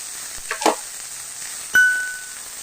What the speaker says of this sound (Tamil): அதையும் சேர்த்து நம்ம வறுத்து விட்டுக்கலாம்.